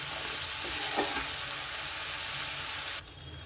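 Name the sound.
stir-frying spices with turmeric, cumin and ginger in a pan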